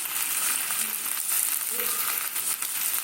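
Tomato and potato pieces fry in a pan with a steady, bright sizzle and faint scraping stirs, close and continuous, with no talk over it.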